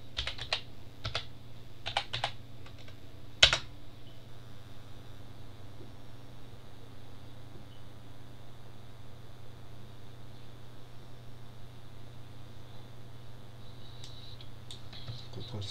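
Keys tapped on a computer keyboard during proxy setup on a pfSense firewall: a handful of close, crisp clicks in the first few seconds, then a steady low hum with a few faint taps near the end.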